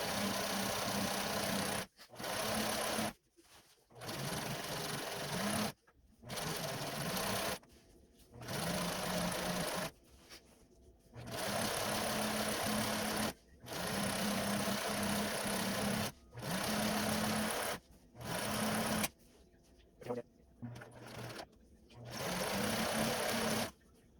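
A sewing machine runs along the seams of a Hogwarts-style robe in repeated bursts of a few seconds each. Fast mechanical whirring stops and starts with short quiet pauses between runs, close and clear.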